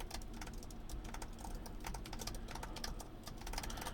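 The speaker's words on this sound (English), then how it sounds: "Tapping on the keyboard." Rapid, continuous tapping on computer keyboard keys, close and clicky with an irregular rhythm, no voices, recorded through a Fifine Tank 6 microphone.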